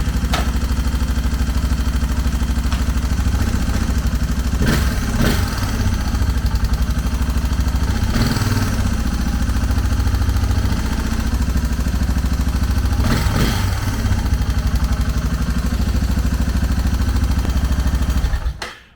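A Suzuki DR650 motorcycle engine runs after a carburetor rebuild, holding a loud, steady close idle with a few surges in revs before cutting off at the end.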